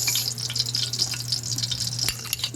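Sliced onion sizzles in a hot pan for adobong sitaw with squash, chicken liver and gizzard, a steady close frying hiss with light stirring and no voices.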